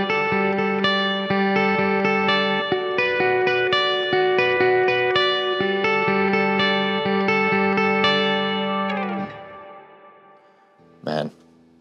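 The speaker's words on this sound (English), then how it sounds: "those are some really nice clean tones" An electric guitar played with clean tones through chorus and reverb effects, ringing sustained picked notes and chords with a steady pulse, then fading into an echoing tail and one brief louder strum.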